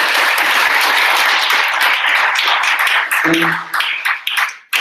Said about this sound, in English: We have one more round of applause for our panelists